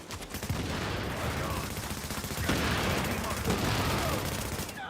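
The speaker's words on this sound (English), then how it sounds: "That was some shooting." Loud, dense gunfire from the shooter video game The Division, with automatic fire and overlapping bursts running without a break.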